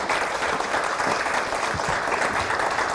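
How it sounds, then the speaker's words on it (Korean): A big round of audience applause for a party leader at a youth forum in Korea, loud, dense, continuous clapping that fills the whole stretch without a break. "홍준표 대표님께 큰 박수가 필요합니다"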